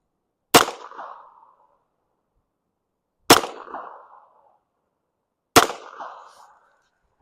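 .22 LR automatic pistol firing three evenly spaced shots at a target outdoors, each a sharp crack with a short decaying echo, separated by silent pauses of about two and a half seconds; no talking.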